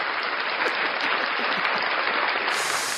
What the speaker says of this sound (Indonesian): Tepuk tangan dulu dong. Tepuk tangan dulu.